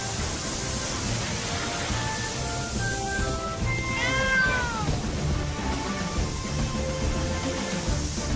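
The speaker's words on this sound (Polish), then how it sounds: "Bo tam jeszcze został ten kot!" A cartoon cat in a Fireman Sam fire scene gives a couple of rising, wavering meows over a steady hiss of background noise, moderately clear in the middle of the stretch.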